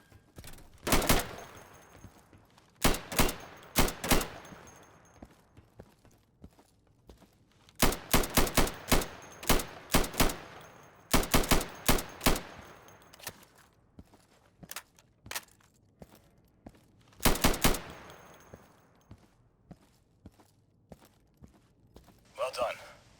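Gunfire in the video game Insurgency during a warehouse-clearing training run, sharp rifle shots in quick bursts and single cracks spread across the stretch, with quiet gaps and faint footsteps between volleys.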